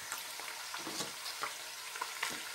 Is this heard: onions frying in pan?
yes